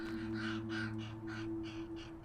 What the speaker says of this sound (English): Ravens also feed their young a wide variety of prey.